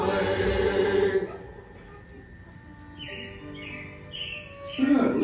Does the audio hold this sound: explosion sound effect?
no